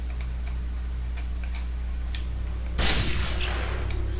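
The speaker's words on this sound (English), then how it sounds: "Shot that camera out of the sky." Gunfire in Metal Gear Solid: The Twin Snakes destroys a security camera, a single loud burst with a short crackling tail near the end over a steady low game hum.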